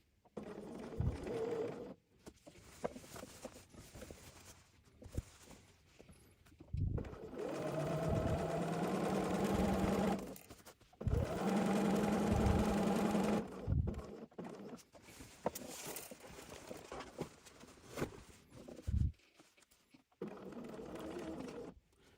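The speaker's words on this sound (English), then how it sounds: "we're going to sink our needle down again, lift up our foot, and turn our piece so that we can continue stitching" A sewing machine stitches fabric in several bursts of steady mechanical whirring, each lasting a few seconds, separated by quiet pauses and small handling clicks as the needle is set and the piece turned.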